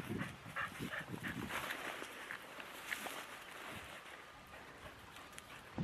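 Staffordshire bull terriers bark and whimper outdoors on a cold, wet day after a tug match, with scuffling footsteps and movement close by; a voice is briefly heard.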